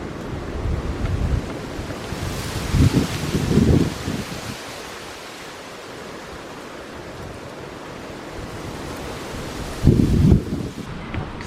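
Ocean waves and wind at a seashore lookout, continuous roaring surf with strong wind buffeting the microphone in several heavy gusts, no speech.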